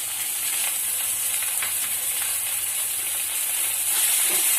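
Turmeric and cumin powder frying in a pan as the spice base for a pangas fish curry, a steady, close, loud sizzle and hiss with faint stirring scrapes and no voices.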